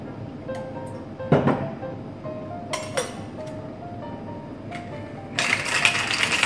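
A cocktail of vodka with half milk, half cream being shaken, giving scattered clinks and rattles of ice against the shaker, with a brighter burst of shaking near the end, all fairly quiet and with no voices.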